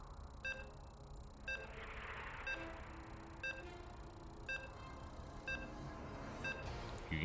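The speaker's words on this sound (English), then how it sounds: "You can hear the beeps." Short electronic beeps from the StarCraft 2 game repeat at a steady one-second interval over a continuous background hum, six or seven tones in a row, during a tournament match.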